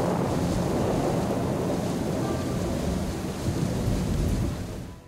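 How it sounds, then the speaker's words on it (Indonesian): A thunderstorm on a mountain with heavy rain and strong wind, a dense steady roar of downpour and gusts with low rumbling throughout, loud and unbroken from start to finish. "tiba-tiba gerimis disertai angin kencang yang disusul oleh badai menerjang"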